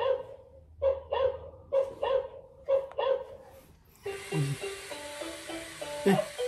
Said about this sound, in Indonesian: Ada tombol gonggong kayaknya, suruh gonggong.